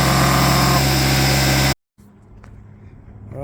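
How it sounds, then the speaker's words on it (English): A small air compressor runs loudly and steadily in a shop during truck painting, a dense droning hum that cuts off abruptly partway through, leaving quiet room noise behind. "My poor little air compressor is working overtime over here."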